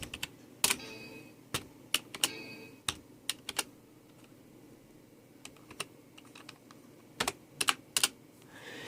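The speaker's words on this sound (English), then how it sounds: "we're going to type in WinVer." Scattered keystrokes clack on a computer keyboard during a Windows XP to Vista upgrade, several quick clicks in short bursts separated by pauses, close and moderately loud.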